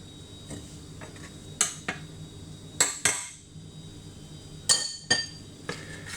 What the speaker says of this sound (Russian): И еще тщательно перемешиваем.